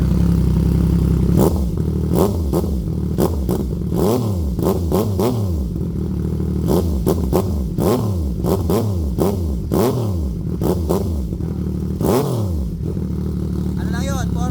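CF Moto 675SR-R motorcycle with an IXIL full exhaust and no silencer, revved repeatedly in loud, sharp blips that rise and fall, a raspy bark close by with someone talking over it.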